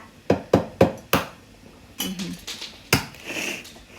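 An egg cracked by tapping it with a knife while making syrniki in a home kitchen: four sharp close taps in quick succession, then a crunch of shell and a few softer knocks.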